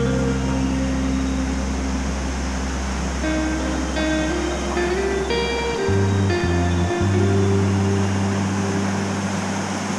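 Vantaankoski river rapids rush steadily in winter, a loud continuous roar of churning water heard from a bridge, with a low hum underneath and no voices.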